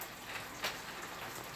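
Heavy morning rain falls steadily in a garden, a constant soft hiss of drops with a few sharper splashes close by, with no voices.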